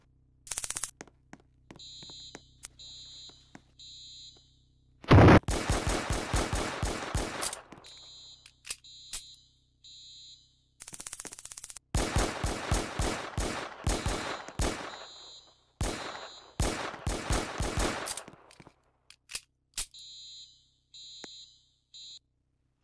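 Roblox war game gunfire: rapid automatic bursts of close, loud shots in several long strings, interleaved with a repeating beeping alarm tone that sounds between and over the volleys.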